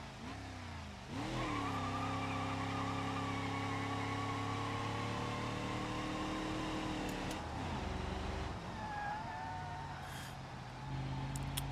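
Kevin the kei truck, fitted with a small-block V8 and a three-on-the-tree gearbox, revs loud and steady through an autocross lap in BeamNG, its engine note holding high and dipping briefly between shifts, with some tire noise.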